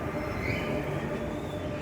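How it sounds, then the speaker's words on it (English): A steady, loud rumbling roar of a Dutch train bound for Dordrecht, with a constant low hum and rail noise filling the whole moment, no voices. "Okay, so the first train that I saw goes to Dordrecht"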